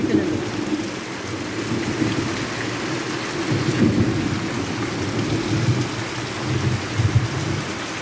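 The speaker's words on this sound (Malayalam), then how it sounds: "ഇടിയുടെ സൗണ്ട് കേൾക്കുന്നുണ്ടോ?" Heavy rain pours steadily with low thunder rumbling through it, a continuous wash of drops with rolling low swells, no voices.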